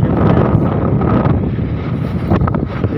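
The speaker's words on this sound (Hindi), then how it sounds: "बहुत तेज़ हवाएं चल रहा है।" Strong wind from Cyclone Biparjoy in Morbi, Gujarat, roars continuously and buffets the microphone, a loud, rushing gust with no voices.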